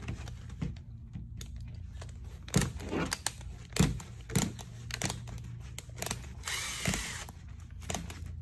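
A ratchet torquing down a hose clamp on a CIPP lateral lining knot, heard as scattered short mechanical clicks and ratcheting bursts at moderate distance, with no talk.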